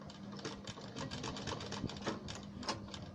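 A sewing machine stitches a blouse neck piece, attaching it at the shoulder, with a fast, even mechanical chatter of the needle running close and continuous. No voices are heard.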